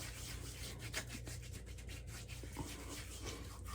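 Shaving product is rubbed into the skin with wet hands before a shave. The rubbing is soft, continuous and close, with a steady rhythm and no talking.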